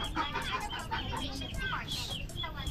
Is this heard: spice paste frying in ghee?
no